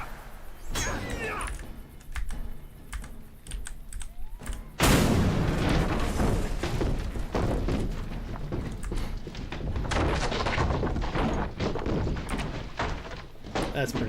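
Siege weapons firing in the online game Lord of the Rings Online, with a sharp heavy boom about a third of the way in, then repeated thuds and crashing impacts under a layer of speech.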